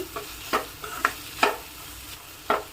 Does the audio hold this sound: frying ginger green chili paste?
yes